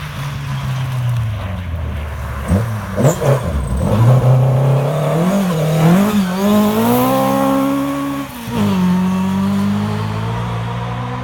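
A rally car roars past at speed on a stage of the Pirelli International Rally, engine revving up and down through gear changes, loud and close, with tires scrabbling on the surface.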